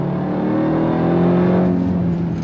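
A 2026 Dodge Durango Hellcat Jailbreak V8 performance SUV with all-wheel drive produces a steady, deep engine drone with a smooth low rumble and mild swell, sounding close and continuous with no talking.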